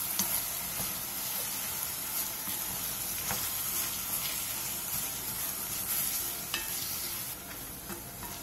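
Aged kimchi and chili powder are stir-fried in a pot, giving a steady close sizzle and hiss with occasional light scrapes and taps of a utensil stirring through.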